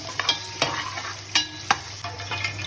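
Okra frying in a pan with mustard seeds, a steady close sizzle broken by sharp stirring scrapes and spatters at irregular intervals, with no voices.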